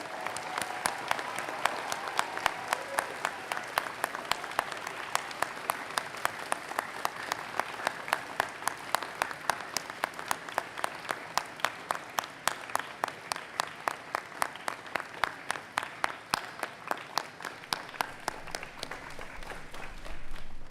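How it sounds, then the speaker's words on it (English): Graduation ceremony audience applauding the class of 2025, starting as a dense ovation and settling into steady, evenly spaced rhythmic clapping that continues to the end, fairly soft and distant. "Let's give them a huge round of applause."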